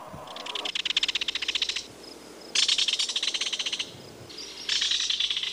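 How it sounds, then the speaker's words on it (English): Kingfisher giving three long, rapid rattling trills, each a fast run of sharp piercing notes, loud and close with short pauses between them. "This is a kingfisher."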